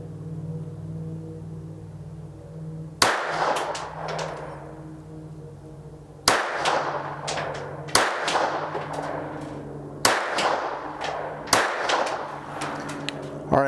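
Five sharp shots from a KelTec P17 .22 semi-auto pistol fired at an outdoor target, each a crisp crack with a short ringing decay, spaced unevenly over several seconds against a low steady background hum.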